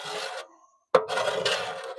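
Grinder scraping old glue off a boat deck, two rough abrasive passes separated by a short silence, close and fairly loud, with no speech.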